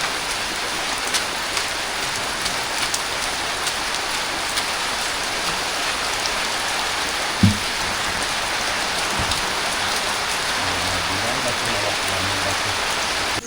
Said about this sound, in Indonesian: Kurang hujan.